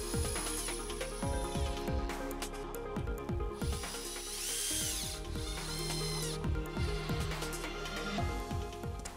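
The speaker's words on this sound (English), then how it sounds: "Set my screws and screw the roof hook tight." Power screwdriver driving screws to tighten a roof hook onto a roof batten, repeated whining motor bursts that rise and fall in pitch, close and loud, with short gaps between each run.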